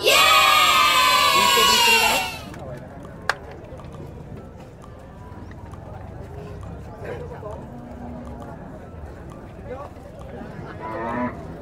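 At a livestock sale of cattle and carabao, a loud, close moo sounds at the start, followed by quieter ambient farm noise, a sharp knock and faint distant calls.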